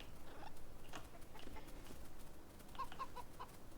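Chickens in the video game Enshrouded give soft, scattered clucks and small chirps, faint against a steady background hum, with a brief cluster of higher calls near the end.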